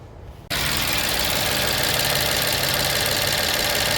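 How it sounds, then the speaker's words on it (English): A 2009 BMW 750i with a fuel leak cranks and fires after half a second of quiet, then settles into a loud, steady idle that runs unbroken to the end. "We will start the vehicle."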